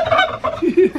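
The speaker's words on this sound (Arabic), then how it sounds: "هذا هو الديك الرومي" A live turkey gobbles close by, a loud burst of rapid warbling calls repeated several times in quick succession.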